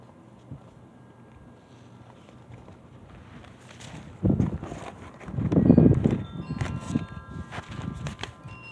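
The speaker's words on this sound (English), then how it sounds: "As you can tell, the wind's kicking up." Wind gusting outdoors in a home vegetable garden, a steady low rumble that swells into louder buffeting bursts partway through, with no talking.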